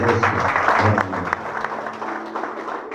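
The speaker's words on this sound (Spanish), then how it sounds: "Denle un aplauso al Señor." A church congregation claps together, a dense burst of applause that thins out over a few seconds, with voices mixed in underneath.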